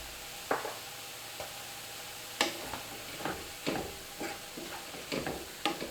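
Food cooking in a pan with onion powder, a quiet steady sizzle broken by soft scraping taps from stirring at irregular intervals.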